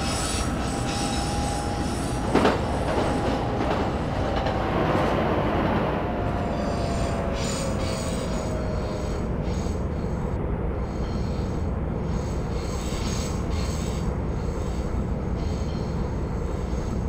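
A C561A train running on the North West Line in the OpenBVE rail simulator, a continuous rumbling roll of wheels on track with a rising and falling squeal of wheels through a curve, steady and close without speech.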